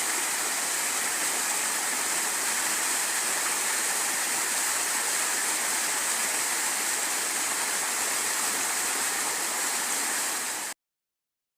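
A waterfall in rugged hill country roars as a steady, loud broadband rush, continuous and unbroken for about ten seconds, then cuts off abruptly.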